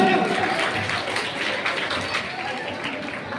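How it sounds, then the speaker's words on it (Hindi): A crowd at a school annual function claps for award-winning children, a broad, even roll of applause that gradually softens, with a voice heard under and over the clapping. "तो एक बार इन चमकते हुए सितारों के लिए जोरदार तालियां।"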